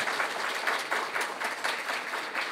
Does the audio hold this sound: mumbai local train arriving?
no